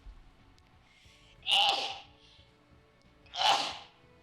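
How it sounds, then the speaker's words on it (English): Two sharp sneezes from a single person, each a sudden loud burst about two seconds apart, with quiet breathing and near-silence around them. "I have to sneeze."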